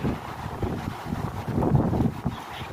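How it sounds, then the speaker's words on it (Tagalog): Wind buffeting the microphone in low, uneven rumbling gusts that swell and fade throughout, close and fairly loud. "Medyo mahangin nga lang."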